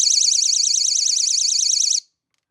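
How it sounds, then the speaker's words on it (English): A VOXON door and window alarm blares a loud, piercing, rapidly warbling electronic siren for about two seconds, then cuts off abruptly into silence. "Okay, now it's the other alarm."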